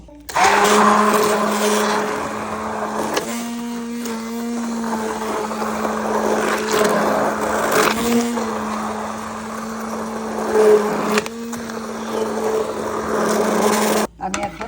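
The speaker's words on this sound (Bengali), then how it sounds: "ওর জন্য আমি একটু হ্যান্ড ব্লেন্ডারে দিয়ে এটাকে ব্লেন্ডার করে নেব" A hand blender whirs loudly in a cooking pot, pureeing cooked baby food in a steady motor drone with small pitch dips as it churns, stopping abruptly near the end, with a voice speaking faintly beneath.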